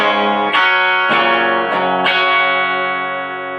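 Clean electric guitar with no pedals, four strummed chords ringing out with bright sustain, each attack distinct and the last chord left to decay.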